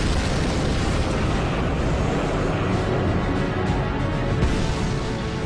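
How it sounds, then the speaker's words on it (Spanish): A heavy battlefield explosion in a World War II tank battle at the Hochwald Gap in Germany, heard as a loud, continuous roaring rumble with dense broadband noise that holds steady throughout. "Me quedé asombrado y luego escuché una explosión."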